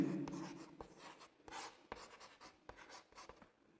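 Pen strokes writing a polynomial by hand on paper during a maths lesson, a close series of short scratchy strokes and taps with brief pauses between them.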